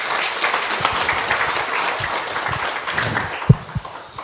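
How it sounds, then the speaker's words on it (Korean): Audience applause fills a seminar hall after a Buddhist monk is introduced at an academic conference on Korean Buddhism and meditation, a steady dense patter of many hands with a couple of louder close claps near the end. "박수 부탁드립니다"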